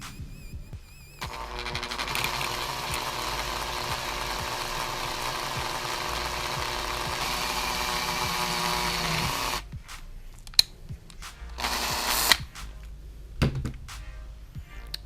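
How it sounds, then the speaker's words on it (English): A bigger drill bit bores a larger hole in a Rylo Adventure camera case, a steady motor whine that runs for several seconds, then stops and gives way to scattered knocks and handling clicks. "I'm now going to use a slightly bigger bit to make this hole decent, quite a bit larger"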